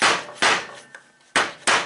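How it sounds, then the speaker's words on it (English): A hammer taps the back of a screwdriver to turn the starter drive on a big truck, four sharp metallic strikes in two spaced pairs, close and loud, with a faint tick between them. "with a hammer, persuading it to turn that direction to line the hole up better"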